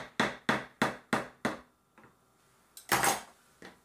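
Metal spoons clatter against dishes close by: five evenly spaced clinks, a short pause, then a louder jumbled clatter.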